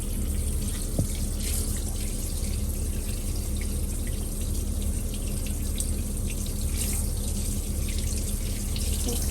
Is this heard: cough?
no